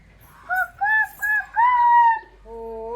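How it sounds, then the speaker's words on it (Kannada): A rooster crows close by, loud and clear, in a few separate harmonic bursts that build into one long drawn-out call, followed by a shorter trailing note in an otherwise quiet yard. "ಕೂಗು ಕೋಳಿ ಹೆಂಗೆ ಕೂಗೋದು"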